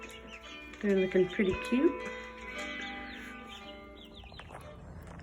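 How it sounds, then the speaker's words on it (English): Chickens cluck and chirp in a coop shared with three turkeys, a short burst of nearby calls that fades to a softer background while a person speaks briefly. "There's the 3 turkeys and 3 other little chickens in there."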